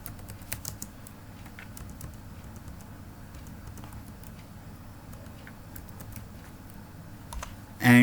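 Typing on a computer keyboard to enter a task name in project scheduling software, a steady patter of light key clicks running throughout with a few sharper taps, close and alone.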